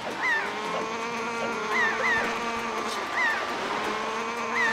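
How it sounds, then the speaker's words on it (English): Looping bird chirps from the Wind Waker HD video game, short rising tweets recurring every second or so over a steady droning musical background, fairly faint and alone. "I don't know if I'm still supposed to be hearing those birds or that's a glitch or something"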